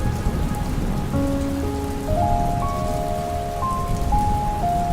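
Steady rain patters on a surface, dense and close, while soft sustained tones of gentle background music rise and shift above it.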